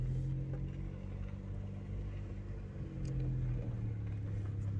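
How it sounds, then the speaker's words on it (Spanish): Street traffic in Abasolo del Valle, Veracruz: a steady low engine rumble from a passing vehicle, moderately close, swelling slightly near the end, with no talking. "Ya hay un poco de tráfico aquí en Abasolo."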